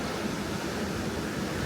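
Ocean surf washing ashore, a soft, steady broadband wash of waves with no distinct breaks, fairly quiet and unbroken, no voices.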